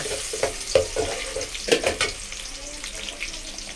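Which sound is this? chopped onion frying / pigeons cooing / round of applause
chopped onion frying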